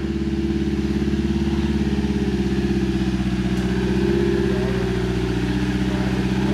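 A short-wheelbase Land Rover Defender 90 drives off-road on a Kentucky adventure tour, its engine a steady, close, low droning rumble that swells slightly partway through.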